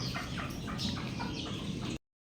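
A mother hen clucks in a backyard flock, soft repeated clucks rising over a steady low rumble for about two seconds before cutting off.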